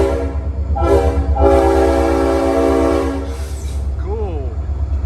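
A Norfolk and Western locomotive horn blows a shave-and-a-haircut rhythm: several loud, close chord blasts of uneven length over a steady rail rumble, then a fading warble as the train keeps moving.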